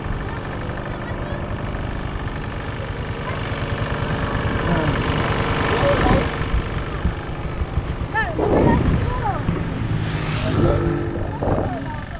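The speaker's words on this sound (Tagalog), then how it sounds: "Yun, pinandar na ulit yung makina oh." A restarted machine engine runs with a steady, close, rumbling drone throughout, while voices talk and call out over it at a digging spot under a bridge.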